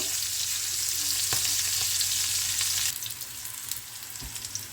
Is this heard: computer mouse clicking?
no